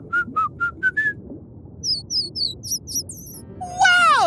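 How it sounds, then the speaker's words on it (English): A cartoon dolphin in a kids' show gives its signature whistle: five short rising chirps in a quick row, then sweeping squeaky whistles and a final burst of bright rising and falling trills, clear over a soft background. "Dolphins communicate with their signature whistles and chirps."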